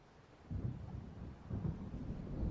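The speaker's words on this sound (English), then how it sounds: "It seems there's a storm coming." Low, muffled rolls of distant thunder from an approaching storm by the shore in the video game Alan Wake, two soft rumbling swells over a steady background hiss.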